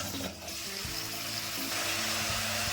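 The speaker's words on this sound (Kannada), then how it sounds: "1/4 kg ಬದನೆಕಾಯಿ ಕಟ್ ಮಾಡಿ ಇಟ್ಕೊಂಡಿದ್ದೀನಿ, ಅದನ್ನು ಹಾಕೊತಾ ಇದ್ದೀನಿ" Chopped eggplant, about a quarter kilo, tipped into a pan of sizzling tempering with softened onion: a steady, moderately quiet frying hiss with faint stirring clatter, no voices.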